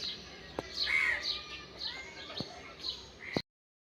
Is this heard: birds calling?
yes